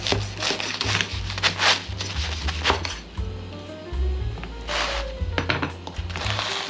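A knife slices a steak sandwich topped with arugula in half, giving a run of crunchy, scraping cuts over a steady low hum.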